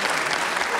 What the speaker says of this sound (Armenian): Եկեք ծափարենք, որտեղ բացարձակ չեմպիոնն է Անդրեն